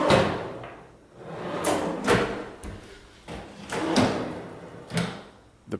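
Bathroom drawers under the counter slide open and shut several times, each pass a close scraping rumble ending in a soft knock, with no one speaking.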